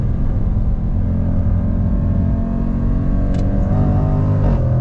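A 2021 Jaguar F-Pace SVR performance SUV accelerates hard out of a turn. A loud, steady engine roar and low rumble are heard from inside the cabin, with no speech.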